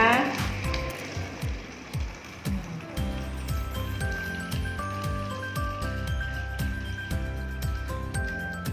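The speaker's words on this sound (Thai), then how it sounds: "เราก็กรอกน้ำใส่เข้าไปค่ะ ใส่ให้เต็มเลยนะคะ" Water pours and fills a bottle, a continuous splashing trickle with faint clinks, close and fairly quiet, with no voices over it.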